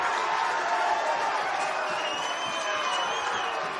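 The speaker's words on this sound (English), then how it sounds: "that has drawn as loud a cheer as you'll hear so far in the game from the St John's fans" St John's fans at a college soccer match roar in a loud, sustained cheer from a sizable crowd, steady and fairly close, tailing off slightly at the end.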